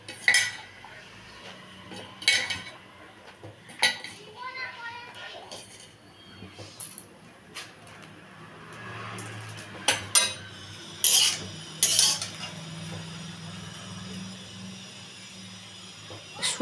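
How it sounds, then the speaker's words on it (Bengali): Cut brinjal tipped into a dry kadai on a gas stove and stirred, with scattered metallic clinks and scrapes of a spatula against the pan, several sharp knocks in the second half, and a low background hum. "কড়াইয়ের মধ্যে বেগুনটা দিয়ে দেবো এবারে।"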